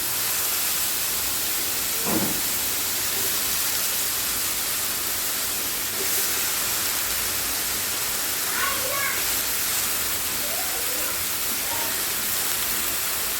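Chopped green beans sizzle in a hot pan while cooking beans palya, a steady, even hiss that continues throughout, with a few faint voice sounds over it.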